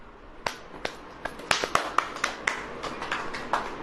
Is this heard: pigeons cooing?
no